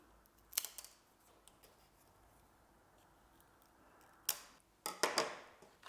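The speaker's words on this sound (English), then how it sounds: "I'm going to cut the ends of the feathers so they don't stick in your eye" Scissors snip the ends of craft feathers on a carnival mask, a couple of sharp close snips early, then a cluster of crisp cuts near the end, with quiet pauses between.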